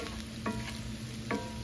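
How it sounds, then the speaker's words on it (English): 80-20 ground beef sautéing in a pan while being stirred, with a steady low sizzle broken by two short scraping stirs of the utensil against the pan. "Let all of this cook for about 2 minutes and saute that ground beef"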